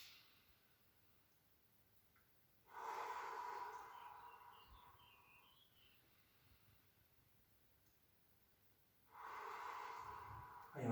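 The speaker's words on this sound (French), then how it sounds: "Et j'expire. J'inspire. Et j'expire." Slow, deep breaths during a gentle seniors' stretching session, two long airy exhalations with a quiet pause between them, close and soft.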